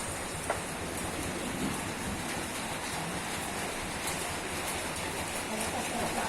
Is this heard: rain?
yes